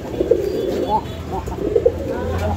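A male pigeon coos nearby in repeated soft, low calls, with talk at a market stall around it.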